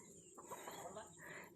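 Chickens cluck softly while pecking at feed near a rural kitchen, with scattered short calls close by and a faint voice in the background.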